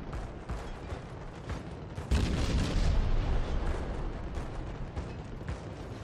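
Naval 130mm cannon volleys in World of Warships, muffled booms over a constant mechanical rumble, with a heavier burst of fire about two seconds in that stays loud and rolling afterward.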